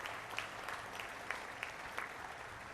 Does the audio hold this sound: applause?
yes